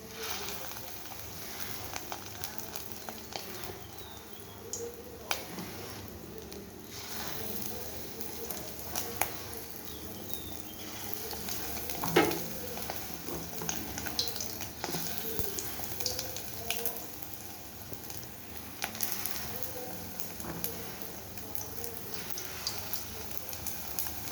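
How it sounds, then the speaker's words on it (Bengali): Fish roe fritters frying in a pan of hot oil, a steady low crackling sizzle with scattered pops running throughout at moderate, fairly quiet level. "আমি এক এক করে সবগুলি বড়াকে ভেজে নিচ্ছি"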